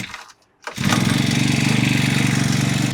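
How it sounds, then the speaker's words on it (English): A cheap Amazon-bought motorcycle engine catches after a short silence and settles into a loud, steady, rapidly pulsing idle close by. "So I guess just fire this thing up and get to turning the screw wherever that is."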